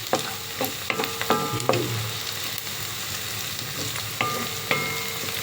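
Spaghetti bolognese sauce fries and sizzles steadily in a pan while a utensil scrapes and stirs it in a series of sharp clacks, with no talking.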